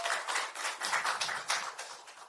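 Audience applause for a Democratic Party candidate at a Korean election rally, a dense steady wash of many hands clapping at moderate level, continuous for a couple of seconds with no talk over it.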